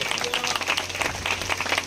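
Brief applause from guests at a Christian wedding ceremony in Srikakulam, a dense patter of clapping that continues evenly with a faint voice beneath it.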